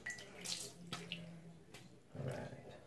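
Cool water runs from a bathroom tap for a shave, a faint hiss with small splashes and clinks, some handling noise over it.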